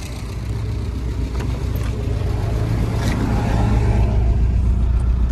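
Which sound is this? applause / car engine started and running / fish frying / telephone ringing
car engine started and running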